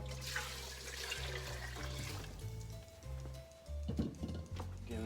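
Water pouring steadily from a tap into a cooking pot for coconut lentil soup, a continuous loud rushing that shifts in pitch as the pot fills.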